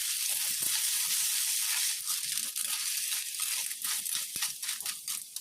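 Snails sautéing in oil with ginger, garlic and onion, giving a steady close sizzle with scattered crackles and light stirring scrapes throughout, no voices.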